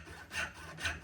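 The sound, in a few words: hand saw cutting wood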